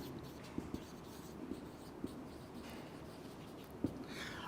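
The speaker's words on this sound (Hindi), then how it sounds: "मैं आपको ये सारे यहाँ पे लिख देता हूँ।" Writing on a board during a chemistry lecture comes through as faint scratching with a few sharper taps against a quiet room tone.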